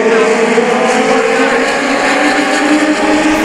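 US Legend Cars racing in a tight pack at Chemung Speedrome, loud overlapping engine whine held steady and close throughout, with no talk.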